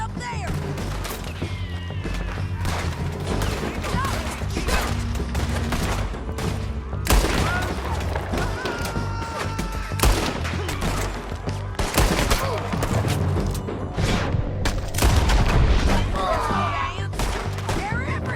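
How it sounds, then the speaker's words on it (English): Sustained gunfire in a Red Dead Redemption 2 shootout, dense overlapping shots and rapid bursts cracking continuously against a busy game soundscape, with voices shouting over the fight. "Keep shooting until they're done!"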